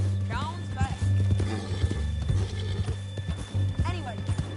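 Horse hooves in the video game Red Dead Redemption 2, quick rhythmic clip-clop thuds under a steady low hum, with a couple of short whinnies and voices talking over the galloping.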